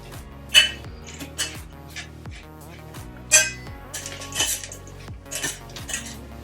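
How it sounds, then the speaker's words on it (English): Metal utensils scrape and clink against a bowl as apple strudel filling with grated lemon zest is stirred together, with irregular sharp knocks and rubbing strokes close up, no talking. "And I will mix everything together."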